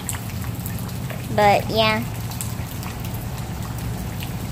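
Rain dripping and water pouring steadily off a porch roof during a summer thunderstorm, a constant wet hiss throughout, with a person briefly speaking over it.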